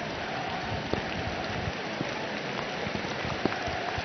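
Large hailstones pelt glass during an Asian Champions League football match between Tractor and Lekhwiya, a dense continuous patter with occasional sharper clicks of individual stones striking.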